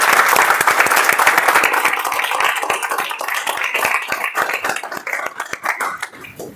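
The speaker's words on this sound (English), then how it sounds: "Can we start the meeting with a good clap?" An audience claps together at the start of a meeting, dense steady applause that gradually thins into scattered claps toward the end.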